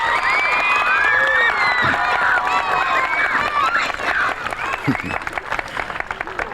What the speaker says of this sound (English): Can I have a round of applause for the Board of Ed, the Superintendent, the PTA, and all those sponsors?